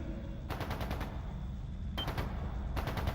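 Video game gunfire in quick automatic bursts, three separate rattling volleys spaced apart over a low rumbling background, moderately distant and fairly quiet.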